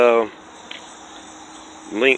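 A grasshopper gives a steady, high, continuous chirring drone close by. A person speaks briefly at the start and again at the end.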